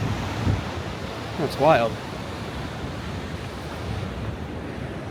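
Ocean surf breaks steadily against rocks along the Half Moon Bay coast in California, a continuous wash of roaring water and wind with a brief voice speaking partway through.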